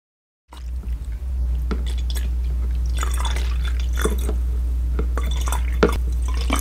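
Alcohol is poured into a container to make homemade hand sanitizer, giving close wet dribbles and glassy splashes over a constant low hum, with irregular drips and one sharper splash near the end.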